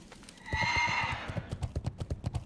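A fast new horse mount in World of Warcraft Hardcore gallops with rapid, even hoofbeats close up, after a loud whinny at the start.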